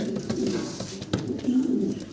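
Low, soft cooing of a pair of large jet-black exhibition fancy pigeons murmurs close by, a steady throaty warble with faint background rustling.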